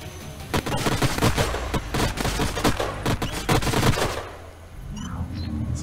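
Rapid bursts of turret gunfire from the strategy game Planetfall rattle loudly and densely for about four seconds, then stop abruptly, leaving quieter game effects and faint whooshes.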